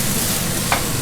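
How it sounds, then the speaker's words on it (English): Chopped onions fry and sizzle in a very hot pan for Hakka pasta, a steady close hiss with the scrape of stirring throughout and one brief louder clink near the end. "you see these are getting cooked, these are frying"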